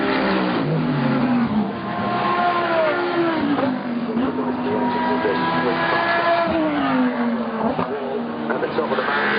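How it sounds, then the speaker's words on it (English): Phoenix Racing's number 2 race car accelerating at the Bathurst 12 Hour, its engine rising in pitch through the gears and sustained, loud and close, with a commentator's voice over it. "Number 2 Phoenix racing out."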